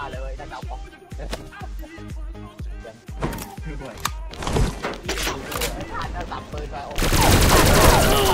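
Rapid gunfire in the video game XSHOT, a steady string of sharp shots that grows denser and louder toward the end, with someone talking excitedly over it.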